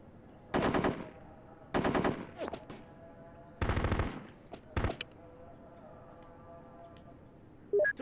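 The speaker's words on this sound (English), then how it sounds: "Taking heavy fire, goddammit! Heavy fire!" Heavy machine-gun fire from the military video game Full Spectrum Warrior, several sustained loud bursts of rapid automatic shots spaced across the span, with quieter single cracks between and faint battlefield noise beneath.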